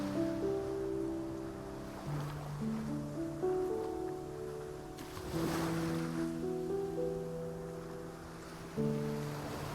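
Ocean waves wash onto a clean beach in the game Love and Deepspace, with soft, distant surf swells rising and falling beneath gentle sustained music.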